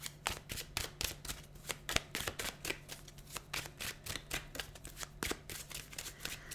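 Tarot cards being shuffled and pulled, giving a dense run of quick, crisp riffling flicks and slaps in a steady rhythm over a low, constant hum, close and fairly quiet.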